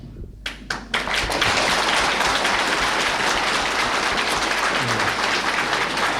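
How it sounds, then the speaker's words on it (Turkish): Sustained applause from a lecture audience, dense steady clapping that starts with a few scattered claps and swells to a loud, continuous roar. "Şimdi, şimdi arkadaşlar ne alkışlıyorsunuz?"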